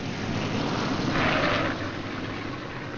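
Engines of B-17 Flying Fortress bombers returning from a combat mission, a steady broadband propeller drone that swells briefly as an aircraft passes nearer, then settles to a constant distant roar.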